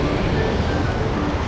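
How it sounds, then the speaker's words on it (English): Snoqualmie Falls, a 268-foot waterfall on the Snoqualmie River in Washington, heard as a steady, loud broadband roar of falling water with no breaks. "Snoqualmie Falls is a 268-foot waterfall on the Snoqualmie River between Snoqualmie and Falls City, Washington."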